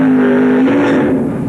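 A race car spinning out before a crash, heard close and loud as a sustained engine whine with rising tire and road roar over roughly a second and a half, with no talking.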